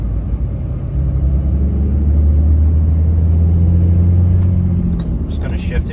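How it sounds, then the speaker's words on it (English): Low, steady drivetrain rumble from a truck with a Valair HD organic single-disk G56 clutch, in third gear near 1200 RPM at about 16 mph, with rollover noise droning loudly throughout and a few rattles near the end. "1200 RPMs, third gear, 16 miles an hour. Get a little bit of rollover noise."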